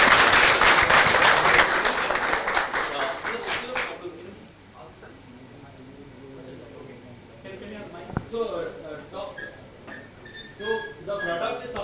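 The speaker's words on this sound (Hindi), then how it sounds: "तो सबसे बड़ा ताली बनता है इनके लिए या नहीं?" Audience applause at a talk on alkaline water, loud dense clapping for the first four seconds, then thinning out into scattered claps and crowd murmur with people talking.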